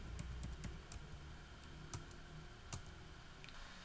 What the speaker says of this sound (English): I'm going to log in as Laura, our data administrator, E4231, and her password